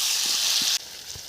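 Vegetables frying in a pan for a jackfruit curry, a bright hiss of sizzling oil that suddenly quietens partway through, with a few soft knocks beneath.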